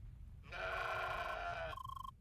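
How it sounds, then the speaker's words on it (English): A harsh, harmonic bleat from an angry goat in the video game CrossCode, a loud sustained call lasting about a second, followed by a shorter steady tone. "Angry goat noises."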